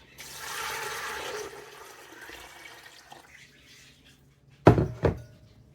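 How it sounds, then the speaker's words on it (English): Cold water pours steadily into a pot of drained beans for about three seconds, then goes quiet before two loud hollow thunks close by. "Then I'm going to add 8 cups of cold water."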